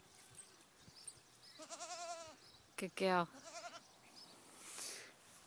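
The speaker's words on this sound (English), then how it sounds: "there's the goat." A goat in a snowy garden gives a couple of close, wavering bleats in quick succession, with a person speaking softly nearby.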